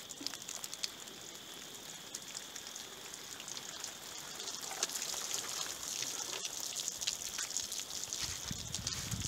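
Water dribbles from a dented jug used as a ballistic test medium after being shot, a faint, steady trickle heard up close against a quiet background.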